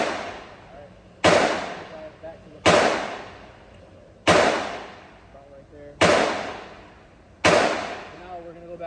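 Five sharp rifle shots ring out at an outdoor shooting range, spaced about one and a half seconds apart, each with a loud crack and a decaying echo tail.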